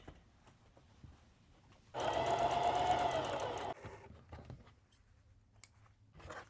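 A sewing machine runs a short zigzag stretch stitch while two pieces of dress fabric are joined. It gives one steady, fairly loud mechanical whir of about two seconds, standing out from a quiet room.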